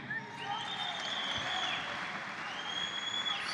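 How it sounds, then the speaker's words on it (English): Crowd applause at a 60 kg freestyle wrestling event, a fairly faint, steady wash of clapping with a sustained electronic tone running through it. "How about a round of applause for Mr."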